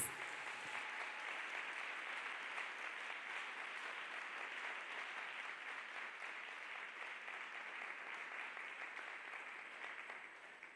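A church congregation claps for Jesus in steady, dense applause that stays faint and distant from start to finish, slowly thinning toward the end.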